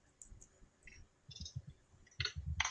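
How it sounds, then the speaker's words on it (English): Keyboard typing during a Minecraft Blockhunt game session: faint, quick bursts of clicking keystrokes in short uneven clusters, with soft pauses between bursts and no voices. "What are you typing?"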